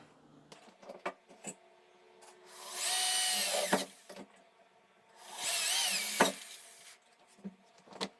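A power drill bores 3/8-inch holes for a homemade TV antenna: two whining bursts of about a second each, separated by clicks and handling knocks, close and clear.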